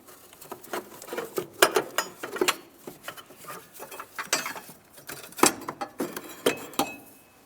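Light metallic clinks and rattles patter irregularly up close as a bracket is worked free beneath a 2003-2010 Mercury Grand Marquis, with no talking.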